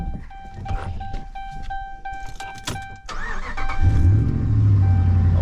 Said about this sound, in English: I'll start it up for you real quick.